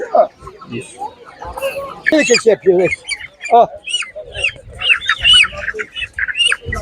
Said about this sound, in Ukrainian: Такий вибір курчат, люди багато мають.